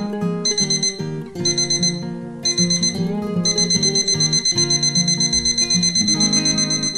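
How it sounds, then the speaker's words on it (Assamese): An electronic alarm rings loud and close in a steady, rapid repeating beep pattern with bright high tones. A lower musical backing plays beneath it, briefly broken near the start. "আপোনালোকেও এই এলাৰ্মটো শুনিছেনে?"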